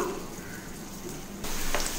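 Steady hot-oil sizzling throughout, jumping louder partway as a dried red chili drops into the pan, followed by a brief clink.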